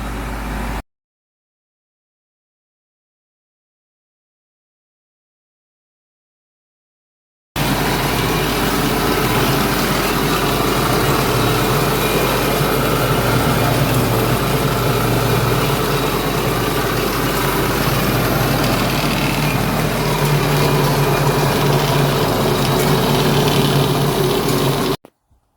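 Tractor engine running steadily while mowing down a garden bed at a hillside vegetable plot, a continuous loud mechanical drone after a brief cut and long silence near the start, with no voices.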